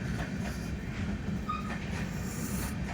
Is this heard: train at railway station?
yes